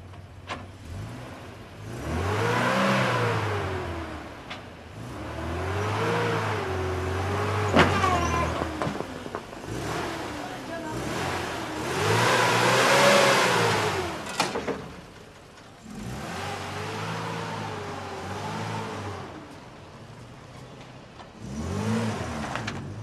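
A car engine warms up and revs repeatedly in the open air, each rev swelling and falling back in roughly five loud surges spread across the stretch, close by with no talk.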